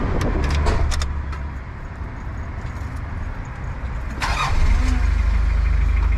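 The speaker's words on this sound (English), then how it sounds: "let's give it a start actually. My first time starting a Delica" A diesel engine in a Mitsubishi Delica van cranks and catches near the end, then idles with a steady low rumble. Faint clicks and rattles come before it, and there is no talk.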